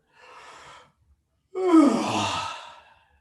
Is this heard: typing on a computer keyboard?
no